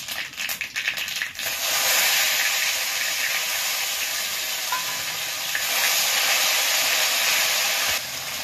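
Garlic, ginger and green chilli paste dropped into hot oil with mustard seeds, giving a loud, steady, close sizzle and hiss that lasts throughout, swelling briefly partway through as the paste is stirred.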